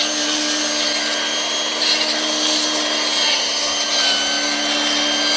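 AL-KO BC 1200 E electric string trimmer running steadily and close by, a continuous high whirring whine that holds level throughout without pauses.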